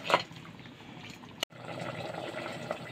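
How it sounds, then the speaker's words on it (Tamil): A pot of mutton curry bubbles on the stove, a soft continuous liquid simmer close by, broken by a single sharp click near the middle. "இன்னொரு வாட்டி பாருங்கள், நல்லா கொதிச்சிருச்சு"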